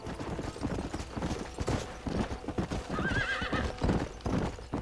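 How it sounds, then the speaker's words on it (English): Horse hooves clip-clop at a gallop in the Red Dead Redemption video game, with whinnies and a steady rhythmic beat under game music and ambient noise. "Mesma inaptidão pra andar a cavalo"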